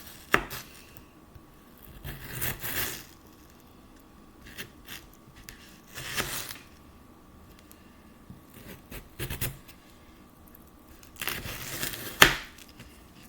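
A knife slicing potatoes into fries, slow separate cuts coming in spaced clusters, each a short crunchy scrape, close up and fairly quiet.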